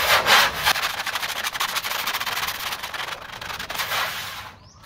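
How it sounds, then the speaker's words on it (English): Sanding a car bonnet on a Ford Escort II, a continuous close, loud abrasive rubbing with rhythmic strokes, fading slightly at the end. "Before I sand it all down,"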